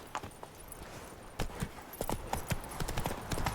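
Hooves of Roach, the horse in The Witcher 3, clip-clopping into a gallop, at first sparse and quiet, then a quick, steady, rhythmic beat of close, moderately loud hoofbeats.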